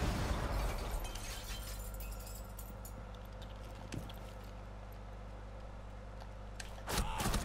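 Grenade blasts in a first-person shooter video game, a loud burst opening the moment and another near the end, with a steady low rumble between and no talking.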